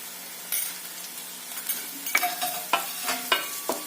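Spiced curry sizzles softly as it is sautéed in a pan, with a spoon scraping and stirring in irregular strokes and a few light metallic clinks, close and fairly quiet.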